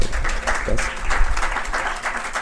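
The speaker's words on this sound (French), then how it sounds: "Merci d'applaudir quand même pour les sponsors." An audience applauds the sponsors at the Dakar Bitcoin Days event, with close, dense clapping in uneven bursts that hold steady for a couple of seconds.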